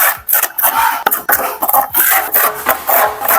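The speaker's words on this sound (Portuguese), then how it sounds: "na primeira demão da aplicação do cimento na parede, depois de impermeabilizado, não precisa ter muito segredo não, é aplicando tipo massa corrida mesmo" Trowel spreading a first coat of cement over a waterproofed wall, loud close scraping and rasping strokes in quick repeated sweeps with brief pauses between them.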